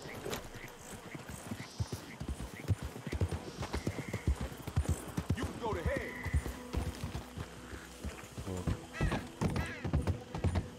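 Horse hooves clip-clop in a steady, close rhythm in Red Dead Redemption 2, with an occasional whinny, while someone talks over them.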